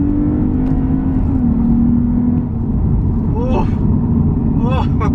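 A naturally aspirated V6 in a Lexus IS350 F-Sport pulls hard in Sport Plus mode on a mountain climb, with a steady engine drone and rising rev sweeps near the end, heard from inside the cabin without talk.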